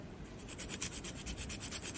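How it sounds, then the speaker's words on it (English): Quiet, rapid back-and-forth rasping of sandpaper cutting a notch into a wooden dowel, a rhythmic scratchy rubbing repeated several times close by. "after about a minute of sanding, there's my notch"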